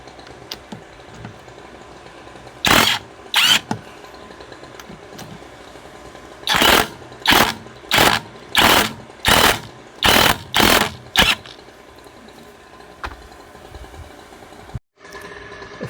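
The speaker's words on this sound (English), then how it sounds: "let's loosen off these nuts." Wheel nuts on a Lotus Evora being loosened with the front wheel on wooden chocks, heard as a series of sharp mechanical bursts, first two apart, then a rapid run of about eight evenly spaced clattering hits, close and loud.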